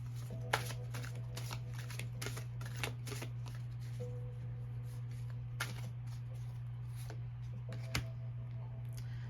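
An oracle card deck is shuffled by hand: soft, repeated riffling and a few sharper card taps spread across several seconds, close and quiet over a low steady hum.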